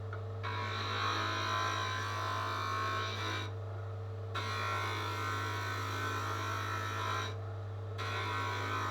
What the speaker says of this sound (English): I further refine the shape by finding any high points and cutting them back with the skew chisel